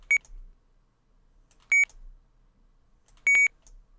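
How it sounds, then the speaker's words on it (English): Three short electronic beeps from a radio control transmitter running OpenTX, each a bright tone, spaced about a second and a half apart, with near silence between them. "So there's the 3 different beeps."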